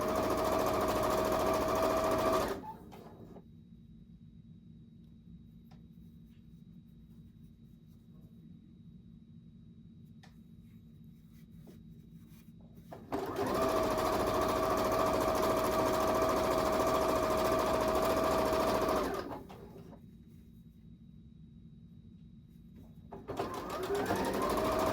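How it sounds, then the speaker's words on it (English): A sewing machine runs in two long bursts, stitching a lengthy seam on a Hunter's Star quilt, a steady close mechanical whir separated by quiet gaps. "let's sew down that long"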